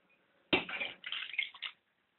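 Water is poured into a pot of smoked salmon and sorrel rolls with wine and tomato paste, giving a short, close splashing pour of under two seconds with a brief break.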